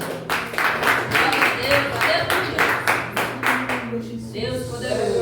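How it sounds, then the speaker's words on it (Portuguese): A church congregation claps in a steady, rhythmic beat to welcome the pastor, the sharp unison claps loud and close for about four seconds before fading. Voices and musical tones sit underneath, and talk follows. "Vamos receber o pastor com palmas para o Senhor."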